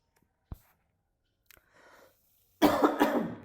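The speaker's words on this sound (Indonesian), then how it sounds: "lagi batuk ini." A single short cough, then a couple of quieter throat noises, followed by a loud, harsh burst of two heavy coughs close to the listener.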